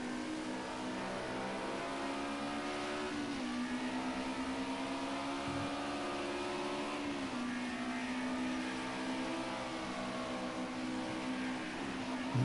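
Onboard a Group A race car at Donington Park, the engine drone steady and loud, pitch dropping under braking into the old hairpin and climbing again as it accelerates away, with repeated gear changes throughout.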